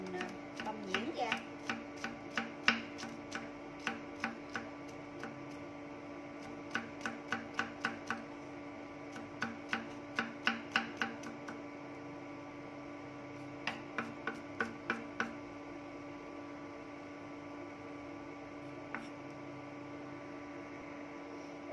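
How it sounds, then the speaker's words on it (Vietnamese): Garlic cloves minced with a knife on a cutting board for Vietnamese braised duck with ginger, heard as bursts of quick, sharp chops in irregular clusters over a steady electrical hum, with pauses between runs. "Rồi đây mình có mấy củ tỏi và mình băm nhuyễn ra."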